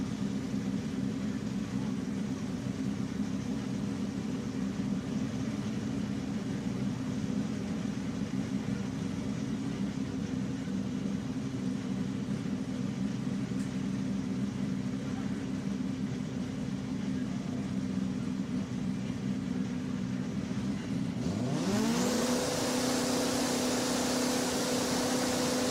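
Drag racing motorcycles, a Turbo Kawasaki and a Suzuki Hayabusa-powered bike, roar steadily for a long stretch, then a sharp rising engine sweep and a change in tone come near the end.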